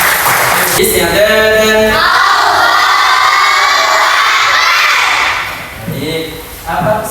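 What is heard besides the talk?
children applauding and cheering in classroom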